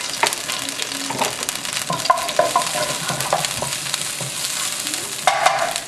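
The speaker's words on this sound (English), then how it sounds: "let the ginger garlic saute a little bit until fragrant, golden brown" Ginger and garlic sauté in a hot wok with a dense, constant crackling sizzle and scattered utensil clicks and scrapes, close and fairly loud, no one speaking.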